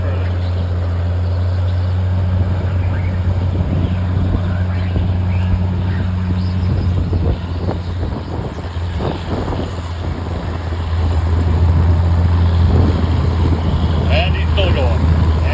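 Oliver tractor engine roaring steadily during a tractor pull, a loud constant drone heard from a distance under an announcer's commentary.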